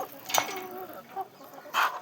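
Chickens clucking nearby in a few short bursts, with brief pauses between the calls.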